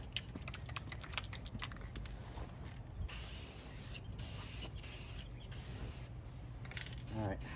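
Red paint is sprayed onto a rusty Atlas industrial tool cart in short hissing bursts from an aerosol can, close and steady, with faint clicks of handling between passes.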